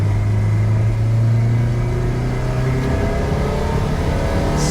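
A Porsche 944 engine running on a standalone ECU, a loud sustained engine drone with steady low harmonics and a gradual slight rise and shift in pitch, close and continuous with no talking.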